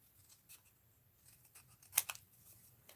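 Scissors snip paper to make a small tag for wax seals, a few quiet, sharp cuts with one crisper snip standing out.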